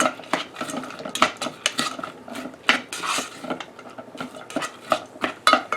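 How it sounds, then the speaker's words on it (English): A utensil scrapes and clanks against a metal pressure cooker pot in irregular strokes, close and fairly loud, with the clatter of mushrooms being stirred around to brown. "we're going to start to stir them around a little bit to brown them"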